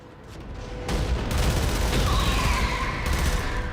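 A captured Magpos cannon in the video game Warframe fires in a loud, dense barrage of booms and rapid blasts that runs on continuously, with no voices over it.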